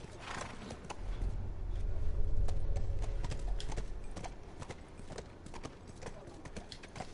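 Hooves clip-clop steadily in a walking rhythm in The Last of Us Part II, with a horse snorting or whinnying, while a voice talks over the top.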